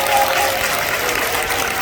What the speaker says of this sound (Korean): 박수 쳐줘,